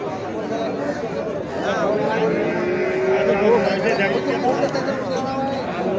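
Cows with calves lowing at Ambari cattle market, a long mooing call rising over a steady din of crowd chatter and bargaining voices nearby.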